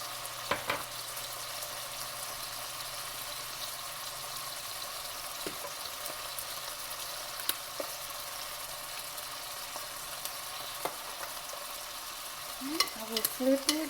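Pork loin seasoned with garlic and Creole seasoning sears in a hot pan, a soft continuous sizzle with occasional pops and clicks, and a brief clatter near the end as the meat is turned.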